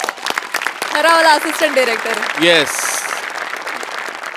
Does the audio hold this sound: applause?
yes